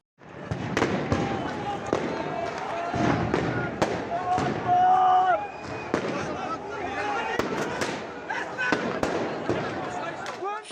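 Stun grenades going off during an Israeli police raid on worshippers at Al-Aqsa Mosque, a series of loud sharp bangs among crowd shouting and voices.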